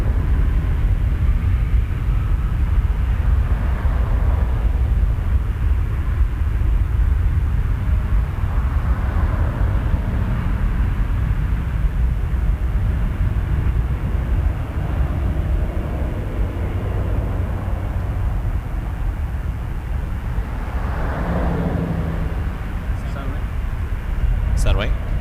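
An airliner on approach to land on runway 06 right at Toronto Pearson, a broad low engine rumble droning steadily throughout, heard alongside radio talk from the control tower.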